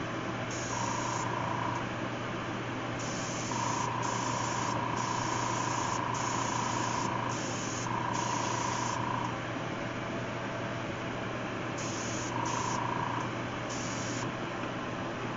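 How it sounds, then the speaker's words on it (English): Short hissing bursts of spray paint from about six inches away, repeated in an irregular run of blasts with brief pauses, close and fairly quiet over a steady background hum. "Only being about 6 inches away from it when I'm spraying."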